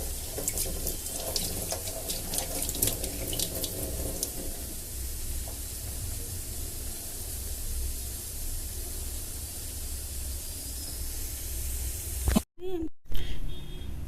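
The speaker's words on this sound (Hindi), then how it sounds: "तो ये चिकन मैं वॉश कर लूँगी" Raw chicken is washed under a running kitchen tap. A steady, close hiss of flowing water fills most of the stretch, with a voice over it, and the flow stops near the end with a couple of knocks.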